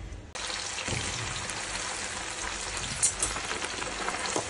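Okra drops into hot oil and deep-fries with a sudden, sustained crackling sizzle, close and steady, with a few louder pops and spatters.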